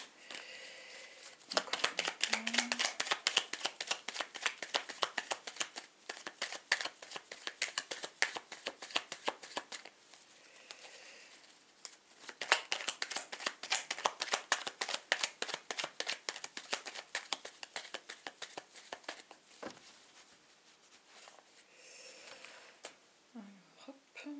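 Tarot cards are shuffled repeatedly close by, a dense run of soft riffling flutters and slaps that pauses briefly a few times before continuing.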